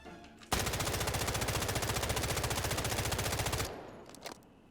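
A K-416 assault rifle in the Delta Force video game fires one loud, sustained full-auto burst of rapid, evenly spaced shots lasting about three seconds, then cuts off abruptly into quieter game ambience.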